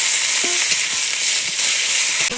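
Tomato dropped into onions frying in a pan, a steady loud sizzle with a few stirring scrapes and clinks along the way.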